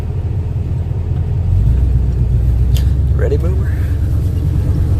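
A 1987 Dodge W150 truck with Summit longtube headers idles with a deep low rumble, then its engine swells louder and steadies as it pulls away from a stop sign, someone talking briefly over it.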